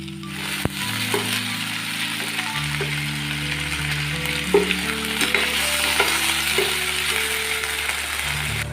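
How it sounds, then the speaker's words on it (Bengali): Chicken pieces frying in oil in a pan for a Bengali chicken and potato curry, a steady close sizzle running throughout, with prominent steady tones layered over it, moderately loud and with no talking. "বাকি চিকেনগুলোও একই রকমভাবে ভেজে নিচ্ছি"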